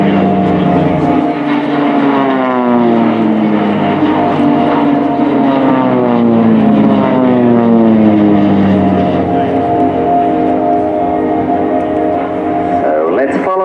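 A Swiss Air Force Pilatus PC-7 propeller plane flies aerobatics at RIAT 2018, an Immelmann half loop and a roll. Its loud, continuous engine drone rises and falls in pitch as it sweeps past.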